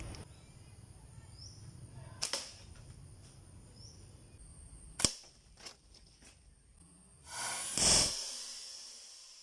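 Steel-frame slingshot firing at a plastic water bottle about 10 metres away: a few sharp snapping shots spaced seconds apart over a low background hiss, the last one broader and noisier.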